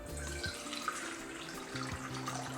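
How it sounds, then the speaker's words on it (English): Room-temperature water pours steadily into a bowl for Yemeni-style tandoori bread dough, a continuous close splashing stream with no talk over it. "We will start with adding 315 grams of water,"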